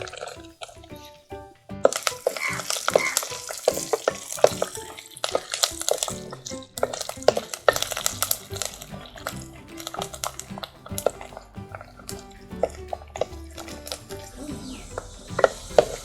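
Garlic frying in hot oil for kara kuzhambu, with mustard seeds and manathakkali seeds already in the pan, gives a crackling sizzle broken by spoon scrapes and stirring clatter, close and moderately loud.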